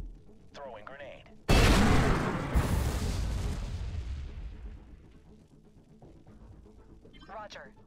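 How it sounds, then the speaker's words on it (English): A grenade blast in the tactical game USC: Counterforce: a sudden loud explosion hits, rumbles and slowly decays over several seconds, with brief voices talking before and after it. "Throwing grenade."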